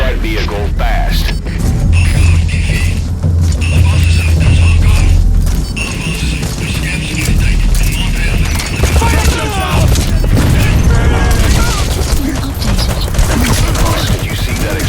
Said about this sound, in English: Did you see that explosion? There's smoke. The target's crashed his vehicle.